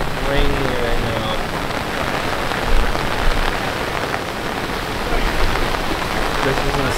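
Heavy rain pours down at a beach during a flash flood, a loud, dense, steady roar of drops hammering surfaces with a few sharper splashes, close and continuous.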